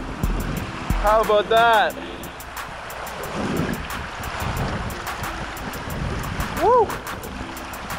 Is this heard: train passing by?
no